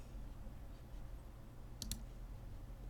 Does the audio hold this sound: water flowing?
no